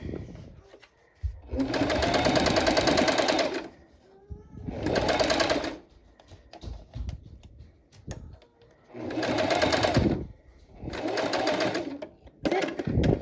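A sewing machine stitches with a twin needle in four loud bursts of running, separated by short pauses and faint handling noises, with no talk over it.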